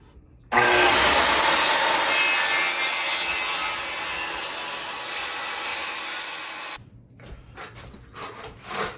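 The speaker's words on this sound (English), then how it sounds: "we can go back out there and cut that board" A handsaw cutting through a wooden board for a drywall repair job, a continuous loud rasping stroke sound lasting about six seconds close by, then it stops and faint handling noise follows.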